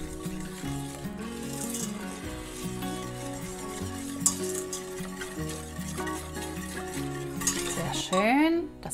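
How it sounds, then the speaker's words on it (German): A spoon stirs sugar into a mixture for a Swedish almond cake, scraping and swishing steadily around a bowl or pot, with background music playing throughout and a louder scrape near the end. "Und dann kommt noch hinzu 150 Gramm Zucker. Das schön miteinander verrühren."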